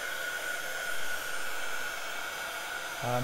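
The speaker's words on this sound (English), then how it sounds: "So I'll just dry it with a heat gun while it's on the worktop, and you'll see it drying." Heat gun blowing a steady, close rushing hiss with a faint whine while drying paint on a worktop, running continuously throughout with no speech.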